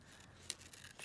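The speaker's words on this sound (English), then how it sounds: "Going to go in here, fussy cut around this lady's face." Scissors snipping carefully around a printed character's face cut from paper, a few quiet, sharp crisp snips spread apart and set against a soft background hush.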